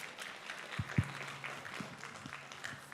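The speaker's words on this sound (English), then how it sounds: "That's the first round of applause I've ever gotten, I think." Faint, steady applause from a small audience at a school board meeting, welcoming the auditor's presentation of audit results. Brief louder bumps sit near the start, and the clapping continues evenly to the end.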